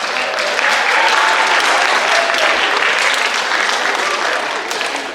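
A school audience at an eighth-grade step-up day applauds the math department head, with loud, dense clapping that starts at once and holds strongly throughout before tapering slightly at the end.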